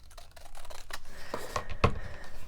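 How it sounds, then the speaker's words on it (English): Scissors snip across a craft grid mat at a desk in a few quiet, close crisp cuts with light rustling between them. "I'm just going to cut across this line here."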